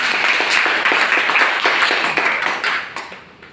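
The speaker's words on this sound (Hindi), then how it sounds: "एक बार जोरदार तालियां चाहूंगा थोड़े से।" A gathered audience clapping loudly in a fairly even rhythm, the individual claps distinct and close, gradually thinning and fading toward the end.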